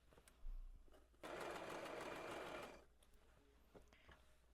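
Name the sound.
sewing machine stitching side seams of a dress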